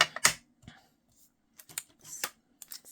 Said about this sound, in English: Scissor time.